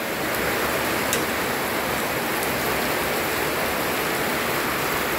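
Steady rain pours down outdoors as a dense, even hiss with no breaks, a constant wash of falling water close by.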